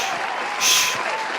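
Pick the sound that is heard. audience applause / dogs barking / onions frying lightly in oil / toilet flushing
audience applause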